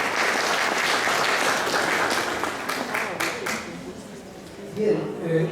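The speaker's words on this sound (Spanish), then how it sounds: "Les pedimos con un fuerte aplauso, por favor, a Héctor." Applause from an audience, broad and steady, fading out toward the end as a voice begins to speak.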